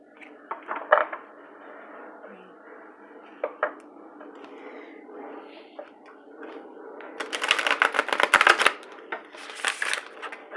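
Cards riffle and snap in short bursts, with a louder, longer flurry of shuffling near the end; quiet and close.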